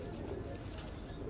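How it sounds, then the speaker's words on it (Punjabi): A pedigree teddy pigeon coos softly amid dense, steady background noise, with a voice talking over it. "ਬੜਾ ਨਸਲੀ ਕਬੂਤਰ ਹੈ ਜੀ"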